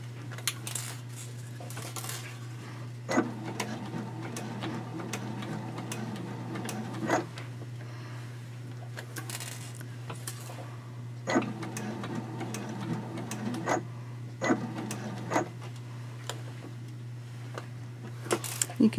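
A sewing machine stitching slowly through fabric for a small backpack card holder, with a constant low motor hum and scattered faint ticks and clicks from the mechanism, heard close and fairly quiet.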